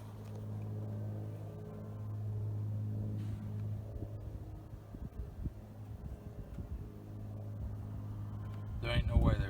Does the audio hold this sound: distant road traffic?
yes